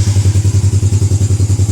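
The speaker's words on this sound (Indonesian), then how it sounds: "admin coba nyalain ya sepeda motornya, starter aja" A Yamaha Jupiter Z1 motorcycle engine runs on Pertalite fuel at a steady idle, with close, loud, evenly spaced thumping pulses and no talk.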